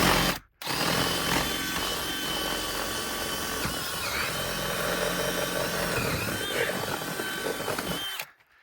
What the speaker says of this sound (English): that's where we're gonna drill our hole, straight up through the floor right there